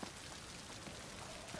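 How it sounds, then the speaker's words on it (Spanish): Rain falling in the game A Plague Tale: Requiem, a dense, even hiss of raindrops with faint scattered patters, with no talk. "Mira cómo llueve."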